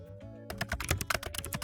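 Fast, uneven clatter of keys on a computer keyboard starts after a short quiet lead-in, close and fairly loud, with no voices over it.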